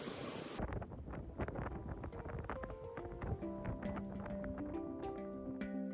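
Wind buffets a microphone aboard a sailboat motoring through Frederick Sound in Alaska, a rough, gusty rumble with scattered knocks and faint tonal creaks or hum throughout.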